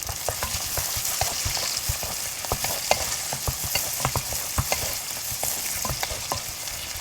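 Tomatoes frying in a pan for Filipino-style spaghetti sauce, a steady close sizzle broken by frequent sharp clicks and scrapes of stirring, with no voices.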